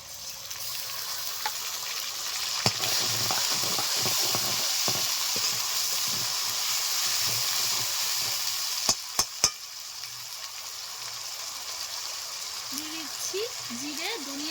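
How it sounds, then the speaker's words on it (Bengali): Onions fry steadily in a pan, a continuous hiss with a few sharp clinks of a utensil, and a voice briefly speaks near the end. "এদিকে পেঁয়াজটাও ভাজা হয়ে গেছে দিয়ে দিচ্ছি আদা রসুন বাটা"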